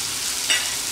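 Chopped green chilies hit a pan over a low flame, with a brief, even, close sizzle and a faint scrape in the middle.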